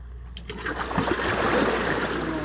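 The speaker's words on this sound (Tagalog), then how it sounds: "Lakas ng tubig guys." Strong water current rushing over rocks along a rocky shore where people are fishing, a steady, dense, close-up wash of flowing and splashing water with no talk.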